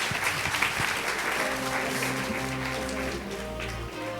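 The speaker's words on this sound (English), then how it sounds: "One final round of applause, please." An audience at a panel session gives a final round of applause, a moderate wash of clapping with a low hum and faint background voices underneath.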